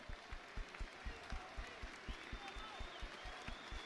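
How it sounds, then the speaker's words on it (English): Crowd applause ringing around Falkirk Stadium during a break in play at a Scottish football match between Falkirk and Dunfermline Athletic, a steady rolling clap with a commentator's voice heard over it. "huge round of applause goes up around the Falkirk Stadium"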